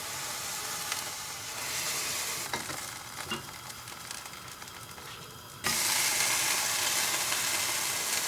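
Rava dosa batter sizzles loudly on a very hot pan, a steady close frying hiss that jumps louder partway through, with no voices.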